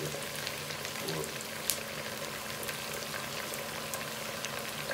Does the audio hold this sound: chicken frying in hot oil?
yes